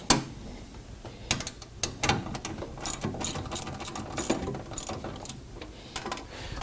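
A ratchet wrench works loose the 10mm bolts holding the factory airbox mounting plate on a GMC Yukon, heard as close, rapid clicking bursts in several runs with brief pauses between, and no talking.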